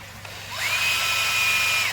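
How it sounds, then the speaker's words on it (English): A small power tool deburs the inside edges of a tube for a shrimp hide, spinning up to a steady high whine for over a second before winding down, close and loud with no talk. "Now I'm just going to burr the edges off with this on the insides of the tube."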